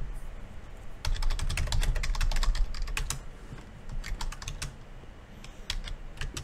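Keystrokes on a computer keyboard, typed commands during a Windows command-line session, come in fast irregular bursts of clicks with short pauses between them, close and clear with no talking.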